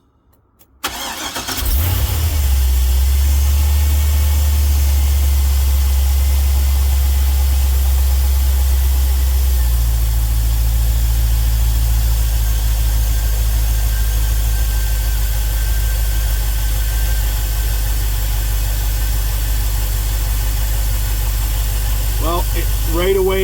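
An LS-swapped GMC Vandura van engine cranks and catches near the start, then settles into a steady, loud, smooth idle that holds for the rest of the clip, with a slight rise in pitch partway through.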